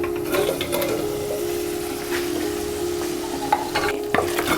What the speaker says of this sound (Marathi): मटण छान शिजतंय.